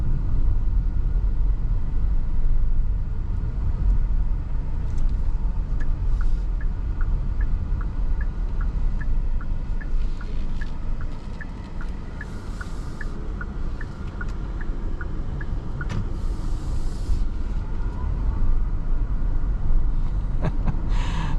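Interior road noise inside a 2026 Kia EV9 GT-Line electric SUV on the move, a steady low tire and wind rumble throughout with a faint ticking indicator-like series of clicks partway through.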